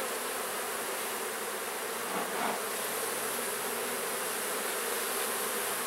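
Agitated honeybees buzz steadily and loudly, a dense continuous drone close by during a hive inspection after smoke is given. No one speaks.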